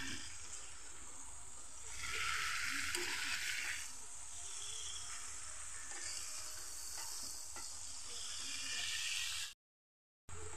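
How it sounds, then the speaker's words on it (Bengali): Cabbage with spices is stirred in a frying pan, with a continuous close sizzle and hiss, scraping stir strokes and a louder surge early on. The sound cuts out briefly near the end. "বাঁধাকপিটা দিয়ে আমি ভালো করে মশলার সাথে এটা মিশিয়ে দিচ্ছি।"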